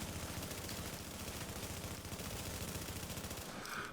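Rapid, continuous gunfire from the SVD rifle in The Division 2 rattles on without pause, dense and loud throughout, with no voices.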